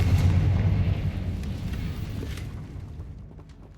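A Confringo fire spell explodes in Hogwarts Legacy, a loud low boom that rolls off and decays over a few seconds with crackling rumble.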